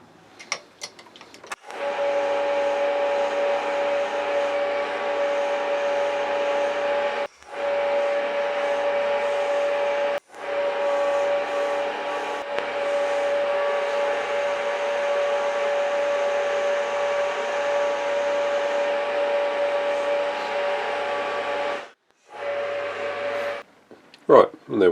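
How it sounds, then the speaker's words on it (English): A metal lathe boring a decorative recess into the front cap of an air rifle moderator. A steady machine whine with a cutting tone runs in long stretches, broken by brief stops and a few clicks. "here we are back at the lathe, putting in the bore at the front"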